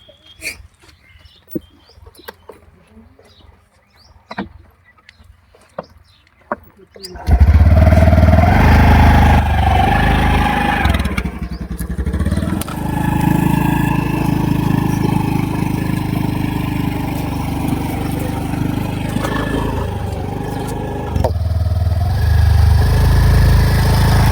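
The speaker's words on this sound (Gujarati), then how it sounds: "એક્ટિવાનો અવાજ આવે" A Honda Activa scooter engine arrives: after several seconds of near silence with scattered bird chirps, a loud, steady motor drone starts abruptly close by and holds for the rest of the clip.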